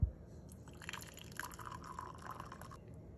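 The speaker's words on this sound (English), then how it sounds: "Then add about a cup of boiling water to a ceramic cup" Boiling water is poured into a ceramic cup, a soft continuous splashing trickle after a brief initial knock, faint and close, with no speech.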